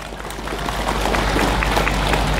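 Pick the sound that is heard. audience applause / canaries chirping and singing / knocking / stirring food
audience applause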